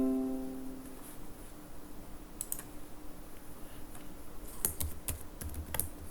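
Typing on a computer keyboard, a quiet run of light key clicks with a few sharper taps bunched near the end, heard alone over a low hum.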